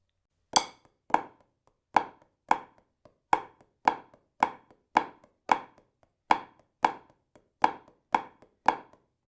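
Crisp snare-like drum strokes playing flam taps and Swiss triplets in a steady pattern, each hit a sharp attack with quick decay, grouped evenly with short gaps, played alone and close.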